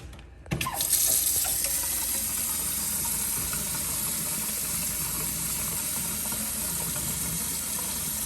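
Water from a repaired shop sink's faucet gushes steadily into the basin after a brief quiet start, a loud, continuous hiss and splash holding for several seconds with no talking.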